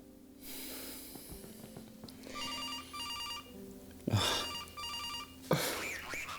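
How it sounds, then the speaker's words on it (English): A landline telephone rings twice in a quiet room, two clear electronic ring bursts, with sharp breaths or snorts nearby between and after the rings. "You don't pick up your cell phone anymore, so I thought I would call your landline."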